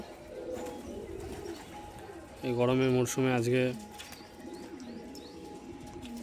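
A single low, throaty coo rolls out in the middle, loud and close, while a person talks before and after it.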